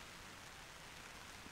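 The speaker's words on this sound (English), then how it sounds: "Definitely sprinkling with rain now, as you can probably hear" Light rain sprinkling onto an MSR Hubba Hubba NX 2 tent at a campsite, a faint, even patter and hiss that runs steadily throughout, with no talking.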